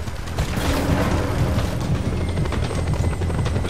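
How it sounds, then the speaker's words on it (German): A helicopter in Just Cause 2 thunders close by, its rotor beating in a loud, constant rumbling chop that fills the whole stretch. "Ein Helikopter."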